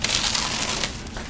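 Crinkly opaque vinyl car window tint film is handled close up, giving a dense, continuous crackling rustle throughout.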